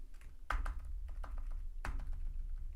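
Computer keyboard keys pressed while adjusting motion paths in Storyline software, a few scattered clicky taps with two sharper, heavier key thunks, close and clear against a faint room hum.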